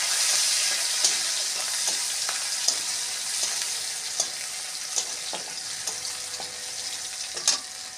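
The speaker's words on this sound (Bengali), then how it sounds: "রসুনটা লাল লাল করে ভাজা হয়ে গেছে" Crushed garlic fries in oil with chilli and five-spice tempering for a lentil dal with potato and Malabar spinach, a steady close sizzle broken by occasional stirring clicks and pops, with no talk.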